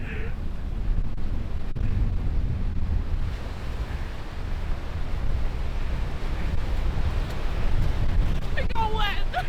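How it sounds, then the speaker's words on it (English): Sea waves wash onto a Gold Coast beach while steady wind buffets the microphone, a continuous broadband roar of surf and gusts close by, with brief voices near the end. "Yeah, this is salt water. It's the sea."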